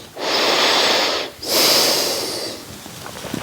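Close, heavy breaths during a desk-worker stretching routine: a long airy inhale or exhale, a brief break, then a second long breath that fades out, with nothing else around it.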